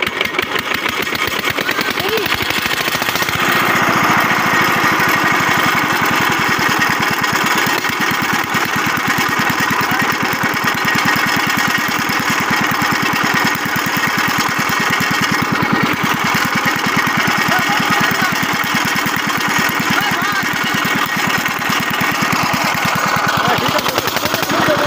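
A machine's engine runs loud and steady just after being started, with a close, continuous chugging drone that holds throughout. Voices can be heard faintly beneath it.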